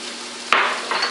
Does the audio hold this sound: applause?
no